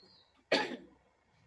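A single sharp, close cough bursts out loudly, then fades into quiet.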